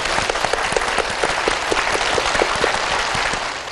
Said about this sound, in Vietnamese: Chúng ta cùng dành một tràng vỗ tay cho người quen